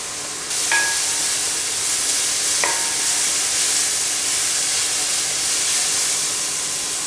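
Onion, ginger and garlic sauté in oil for a Kerala-style chicken stew, with a loud, even sizzling hiss that holds steady throughout and a couple of brief clinks from a utensil. No one speaks.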